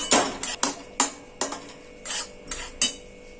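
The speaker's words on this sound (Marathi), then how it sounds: "मंद आचेवर आपल्याला रवा भाजून घ्यायचा आहे." Semolina (rava) is roasted and stirred in a pan, with a close spoon scraping and knocking against the metal in eight quick, irregular strokes.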